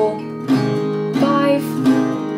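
Acoustic guitar strumming chords, each strum ringing with bright sustained strings, several strokes in an even rhythm, close and alone.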